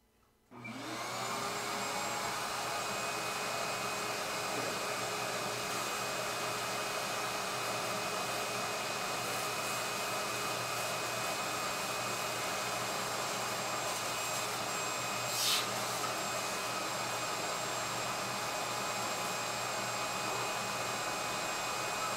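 Vacuum cleaner switching on and running steadily for a long stretch, a constant loud whine and whoosh with one brief flare partway through and no talking.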